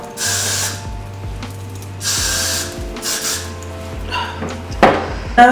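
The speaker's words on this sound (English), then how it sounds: "this is blasting free spray, holding spray. It's to hold the hair." An aerosol can of hair holding spray sprays in several short hissing bursts, separated by brief pauses, with light rubbing and handling noises between them.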